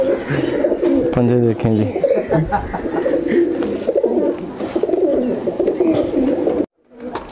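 Umbrella-type low-flyer pigeons coo in soft, repeated throaty calls close by, with someone talking over and between the cooing.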